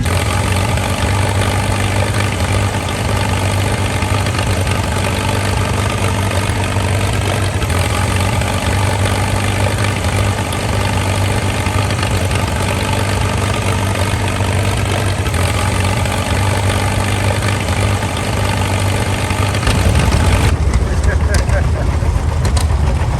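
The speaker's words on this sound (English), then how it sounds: "Now here's one of the first tractors for Ellis Chalmers." Engine of one of the first Allis-Chalmers tractors running at a steam show, a steady loud low rumble that holds evenly throughout, with a brief shift in tone near the end.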